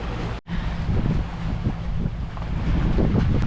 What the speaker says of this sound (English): So we're just motoring out till we get the breeze